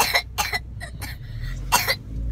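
A young girl with a lingering cold coughs several times in short, sharp bursts, close to the microphone, with faint background hum between coughs.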